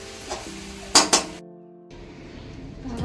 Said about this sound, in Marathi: तर आपण हे प्लेटमध्ये काढून घेणार आहोत.